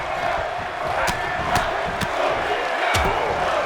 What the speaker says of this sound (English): Crowd chanting both these guys.